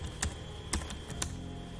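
A few sharp, isolated keystrokes click on a computer keyboard while Python code is entered, spaced about half a second apart over a steady low background hum.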